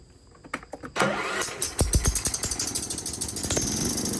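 A Craftsman riding lawn mower engine with no compression cranks with a few sputters, then catches and runs with a fast, rattling, chugging rhythm close by.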